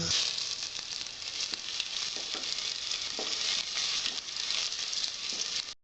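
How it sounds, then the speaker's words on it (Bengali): Chopped ginger hits hot oil already seasoned with panch phoron, giving a steady, loud, close sizzle and crackle that runs unbroken for the whole stretch with faint stirring. "এবার আমি আদাটা দেবো।"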